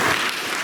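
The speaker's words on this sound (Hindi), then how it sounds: "ताली बजाएं।" A short burst of dense, steady clapping from a church congregation at an engagement ceremony, loud and close with no pauses.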